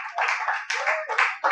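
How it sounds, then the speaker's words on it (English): Comedy club audience at a midnight stand-up show clapping, several bursts of close, crisp hand claps with brief dips between them, fairly loud and without talk. "Give this round of applause for yourselves."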